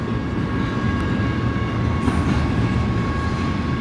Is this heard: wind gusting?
no